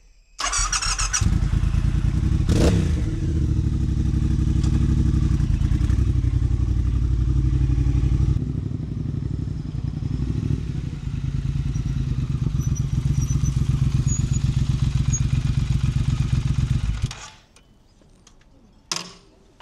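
An old moped that has sat for two weeks starts after a brief crank and then runs with a loud, steady, buzzing idle close by for about fifteen seconds before cutting off abruptly.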